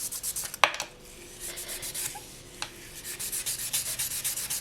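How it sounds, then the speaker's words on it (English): Sandpaper rubs steadily across a hard resin jewelry piece in a close, continuous scratchy rasp with a rhythmic back-and-forth pulse, broken by a couple of sharp clicks. "I just wanted to show you with this one how long it actually takes to get it sanded"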